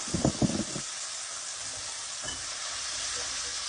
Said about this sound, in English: So the onions are being lightly sauteed right now.